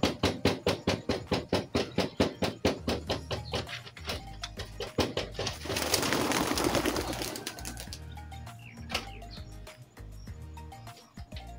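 Pigeons coo and flutter nearby amid a run of rapid, regular tapping, followed by a burst of wing-flapping rustle.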